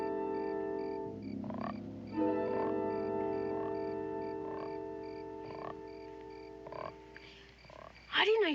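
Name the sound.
frog croaking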